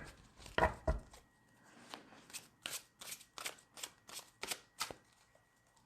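Tarot cards are shuffled in a series of quick, crisp riffles and taps, repeated steadily at close range with no talking.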